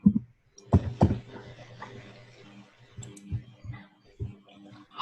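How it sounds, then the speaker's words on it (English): Computer keyboard typing heard over an online class call, scattered clicks and key taps in irregular bursts, fairly close, with faint background murmur. "I can hear your keyboard sound."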